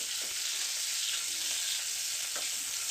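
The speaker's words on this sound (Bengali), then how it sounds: "ভালো করে নেড়ে নেব ডিমগুলো" Eggs for a potato egg curry are stirred while frying in a pan, making a steady, close sizzle with a few soft scrapes of the spoon.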